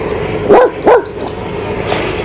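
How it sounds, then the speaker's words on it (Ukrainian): A dog gives two quick, close barks in a row, then falls quiet against a steady background hum. "Воня, не смій, я запрещаю гавкати."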